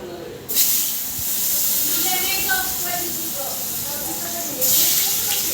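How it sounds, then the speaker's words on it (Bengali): Small diced potatoes frying in hot oil in a home kitchen, a continuous close hiss with faint crackles, louder at the start and again near the end. "তেলে আলু ছেড়ে দিয়েছি এবার সুন্দর করে লাল লাল করে ভাজবো"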